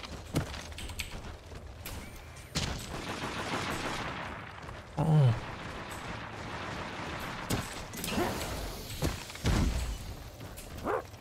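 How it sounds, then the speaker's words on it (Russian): Distant gunfire in Deathgarden: Bloodharvest, scattered shots and short bursts over a steady low rumble, with a few sharper mechanical clanks. "Я могу только бегать на выстрелы"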